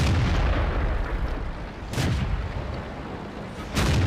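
Tank cannon fire from the World of Tanks video game: loud, booming shots with rumbling decay, two or three blasts a couple of seconds apart over constant low battle noise.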